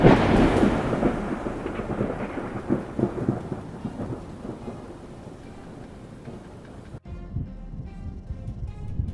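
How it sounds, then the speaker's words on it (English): A powerful thunderstorm in Spring Hill, Florida, with heavy rain pouring steadily and deep rolling thunder rumbling loudly through the first half, fading into continuous rainfall with a sharp break near the end. "Bolts of lightning streaked across the sky in Spring Hill, Florida, illuminating the gloomy air as a powerful storm swept through the area."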